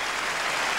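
A stadium crowd at a West Ham United versus Liverpool football match cheers as a substitute comes on, a steady, distant roar of massed voices with no single voice standing out.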